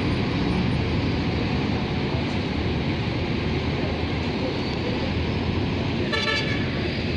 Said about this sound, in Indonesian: Ini mau videoin bis-bis yang ada di sini nih.